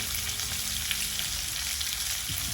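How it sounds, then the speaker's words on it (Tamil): Chopped shallots fry in hot oil with mustard seeds, a steady close crackling sizzle with faint stirring that runs unbroken throughout, with no talking. "வெங்காயம் நல்லா வதங்கட்டும்."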